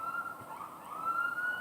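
Police or emergency vehicle sirens wail faintly in the distance, a steady rising and falling tone heard alone with no talk over it.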